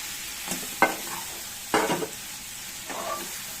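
Prawns and potatoes sautéed together in a pan with spice paste, three or four distinct scraping stirs over a faint continuous sizzle, close and fairly loud.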